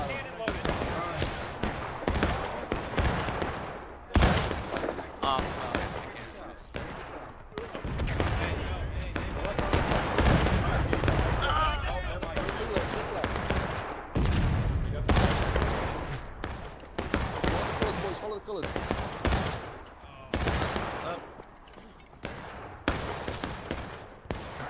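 Repeated booming cannon blasts and sharp shots fire irregularly in the video game War of Rights, some heavy and echoing, layered with a battle din over more than twenty seconds.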